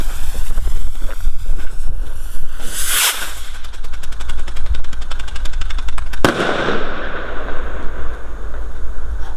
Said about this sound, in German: Also deutlich dumpferer Knall als der Flashbang. Und dieses, das ist auch geil, dieser Strobe-Aufstieg